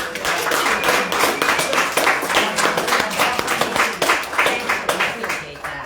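Hands clap at a meeting, a fairly loud run of claps pulsing in uneven bursts throughout, mixed with people talking.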